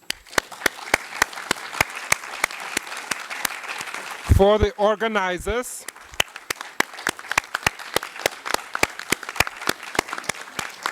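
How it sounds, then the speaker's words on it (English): Audience applause for a panel at an academic conference on European constitutionalism; steady, dense clapping fills the room while someone speaks over it partway through. "I would like to ask for the round of applause for esteemed panel"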